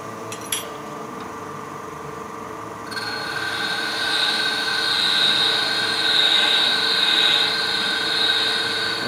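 A drill cutting a hole in a metal ring at about 1200 RPM, starting with a few clicks and then settling into a steady, high-pitched whine over a constant machine hum.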